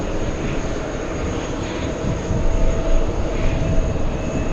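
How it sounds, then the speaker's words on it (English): An ITA Airways airliner at JFK airport produces a loud, steady engine roar with broadband rumble and a thin high whine, swelling slightly midway, no voices. "That's another Ita flight."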